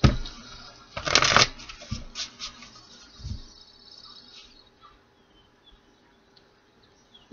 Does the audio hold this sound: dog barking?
no